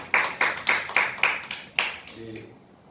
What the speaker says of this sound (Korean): 하나님 감사 박수 드리겠습니다.